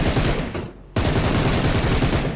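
Rapid bursts of gunfire from a shooter video game rattle on continuously, dense and loud, broken by a brief gap.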